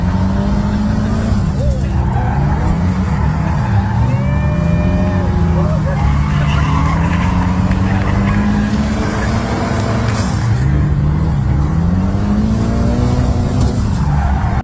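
A drift car engine revs hard and rises and falls repeatedly with tire squeal from drifting at a Long Island drift event, loud and continuous, with crowd noise and voices underneath.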